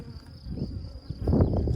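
Bees buzzing close by near an apiary, a rough droning hum that swells louder in the second half, with no voices.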